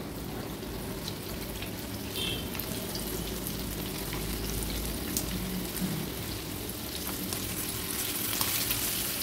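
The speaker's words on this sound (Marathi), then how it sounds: "जसं आपण दुसरी मच्छी तळतो ना, वाकट्या, बोंबील वगैरे, तशीच ही कालेटी पण आपल्याला फ्राय करून घ्यायची आहे।" Fresh kaleti fish fry in hot oil in a pan for a monsoon seafood thali, a dense, even crackling sizzle that holds steady at close range with no talk.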